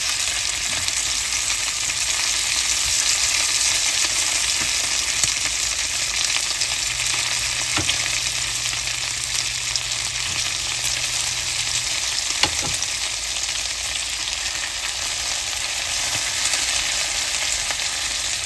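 An omelet sizzles steadily in a pan on a Holstein omelet maker as it is flipped, a continuous close frying hiss with a couple of faint clicks and no talking.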